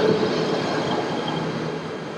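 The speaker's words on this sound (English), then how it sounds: "So let's take a look at the ETS." KTM ETS electric train, a Chinese-built business-class service, moving through a station on the KL Sentral to Butterworth line in Malaysia, a steady rolling rumble with faint rail noise and no talk.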